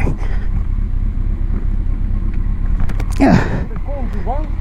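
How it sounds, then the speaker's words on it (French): A Kawasaki ZZR 1400 motorcycle carries a passenger riding pillion, producing a steady low engine and road rumble for several seconds with brief higher chirps near the end. "ça faisait longtemps que je n'avais pas monté derrière quelqu'un en moto"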